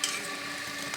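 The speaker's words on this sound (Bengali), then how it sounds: "আমার এই রসবড়াটা ভাজা প্রায় হয়ে গেল" Rosbora fritters frying in hot oil make a brief, dense, even sizzle that is close and moderately loud, with no voices.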